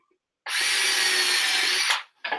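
A power drill bores into wood during a stool build, one loud sustained whine of about a second and a half that cuts off sharply, followed by a short second burst.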